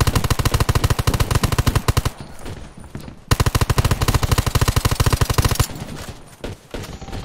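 Gunfire rings out in the video game Undawn, a PvP fight at a supply camp, as two loud, rapid automatic bursts of about two seconds each with a short gap between them, followed by a few scattered shots.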